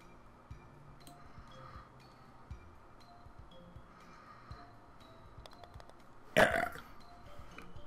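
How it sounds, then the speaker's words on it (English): A single loud burp erupts near the end, close and brief, against faint background ticks and quiet room noise. "Burp up."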